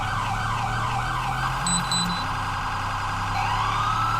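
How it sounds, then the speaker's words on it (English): Police car siren in GTA V with the LSPDFR mod, switched to two-way mode, wails in looping sweeps with short bright yelps, loud and close over a steady engine rumble, with no talk. "We're gonna put on the two-way siren right now."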